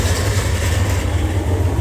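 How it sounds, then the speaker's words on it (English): A low, steady rumble of a tram rolling away, with a constant deep hum and faint rattling, no voices. "That's a tram going away."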